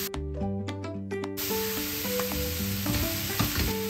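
Baby corn and capsicum hit a pan with butter and break into a sudden loud, hissing sizzle after a moment of quieter background, continuing close and bright with small spatters, no talking.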